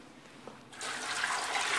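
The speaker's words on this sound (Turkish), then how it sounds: "üstünü taşacak kadar da bir su koyacağım" Clean water running into a metal pot to cover pumpkin pieces for boiling, a steady close splashing rush that starts abruptly partway through after a quiet moment.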